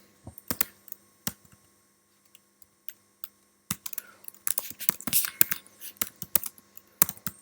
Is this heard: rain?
no